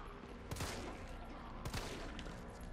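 Gunfire in Resident Evil 3 aimed at Nemesis: two loud, sharp shots about a second apart, ringing over a steady game ambience with no voices.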